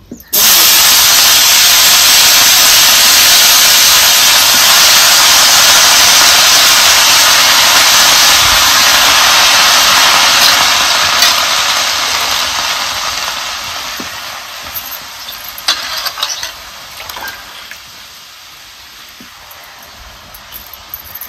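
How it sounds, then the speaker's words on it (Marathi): Spring onion greens hit a hot griddle pan and sizzle loudly with a steady broadband hiss that gradually fades and softens toward the end, with no one talking. "तवा बी गरम झालाय. आता ही जी भाजी नाही आपल्याला अगोदर शिजत घालायची."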